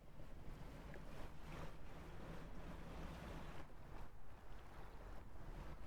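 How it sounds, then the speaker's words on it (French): Wind gusts and sea waves surge in the fishing game Dredge, a continuous broad roar of surf and blowing air with slow swells in loudness, steady and enveloping. "Oh, le vent qui me pousse!"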